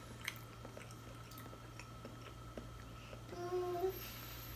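Soft, moist sponge cake filled with banana cream (Tokyo Banana) being chewed close up, quiet wet squishy mouth sounds over a steady low hum, with a few brief faint vocal noises near the end.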